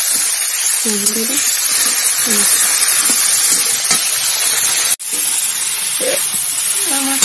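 Turmeric water is poured into a spice mix sizzling in a pan for winter-vegetable khichuri. A loud, steady frying hiss runs throughout with a brief dip midway, and a voice talks over it.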